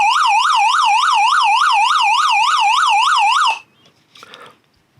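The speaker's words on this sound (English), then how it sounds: "If you press and hold and long press this button, the SOS alarm will go off and the lights will start flashing." Emergency crank radio flashlight sounding its SOS alarm: a loud, rapidly warbling electronic siren wails for about three and a half seconds, then cuts off, leaving a few faint handling noises.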